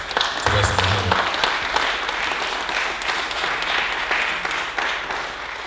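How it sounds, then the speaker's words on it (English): An audience gives a warm round of applause for Wesley Muhammad, sustained clapping from a crowd, fairly loud and even throughout, with a brief low voice near the start. "let's please give a warm round of applause to Wesley Muhammad"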